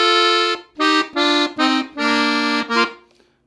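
Accordion phrase from a tune, on an FA-tuned button accordion: several loud reedy chords in a choppy rhythm with short cuts between them, ending on a quick note and fading.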